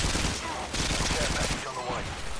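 Rapid automatic gunfire rattles in a first-person shooter match on an underpass map in Domination mode, dense close bursts of shots filling the whole stretch with little pause.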